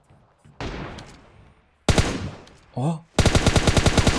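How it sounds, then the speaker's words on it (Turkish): Rapid automatic gunfire in PUBG Mobile: a short burst, a pause, then a loud sustained string of evenly spaced shots, with a brief vocal exclamation in between. "Bak solda birilerini vuruyor."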